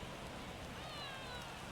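Steady broadband rain hiss from a rainy ballpark in MLB The Show 22, a near sellout Yankees–Reds game, filling the whole stretch evenly with faint crowd ambience beneath.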